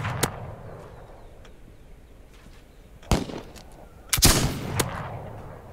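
Gunfire sounds in the Wild West survival game This Land Is My Land: sharp single shots crack out, one early and then a close pair near the end, with a fainter report after, over quiet ambience and no talk.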